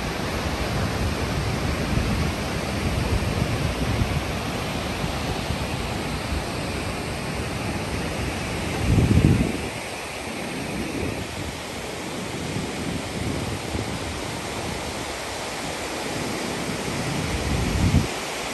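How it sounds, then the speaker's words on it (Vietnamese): Sea waves at Phan Thiet, Vietnam, during storm No. 2 roar steadily in a loud, continuous wash, with wind buffeting the microphone and a couple of heavier surges of surf. "Biển khi mà thời tiết đang có bão số 2."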